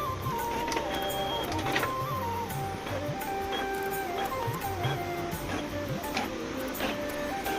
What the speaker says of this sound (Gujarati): તો અહીંયા પ્રિન્ટિંગ ચાલુ છે